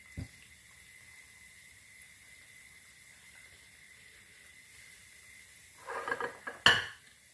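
Potato nuggets go into hot oil for frying. A long quiet stretch with a faint hum leads to a brief burst of sizzling and utensil clatter near the end.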